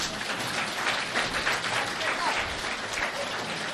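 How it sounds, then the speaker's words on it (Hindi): A Brahma Kumaris New Year 2023 gathering in Bhusawal claps continuously with hands raised, a dense, steady wave of applause filling the hall for several seconds. "बाबा कहते हैं हाथ ऊपर करके ताली बजाओ"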